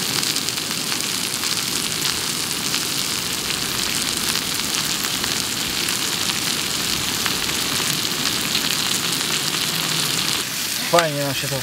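Kielbasa frying in a pan for chili con kiełbasa, a steady broadband sizzle that carries on evenly for the whole stretch, with a brief faint clatter near the end.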